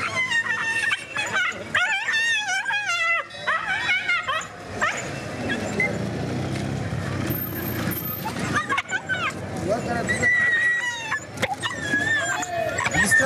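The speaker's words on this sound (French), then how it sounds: "Ah yes. C'est un chien fou." A frantic stray dog barks, yips and whimpers on a busy street in Calcutta, India, the harmonic cries rising and falling over crowd noise and voices talking close by.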